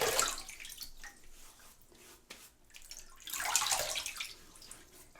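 Cold water in a sink splashed up onto the face before a wet shave, two bursts of close splashing and dripping with quieter trickling between, no talk.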